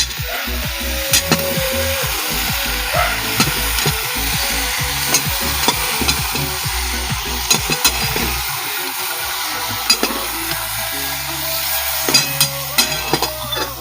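Cauliflower and potato pieces fry in a pan with a continuous sizzle, while a utensil stirs and scrapes in a steady rhythm; loud and close, no voices.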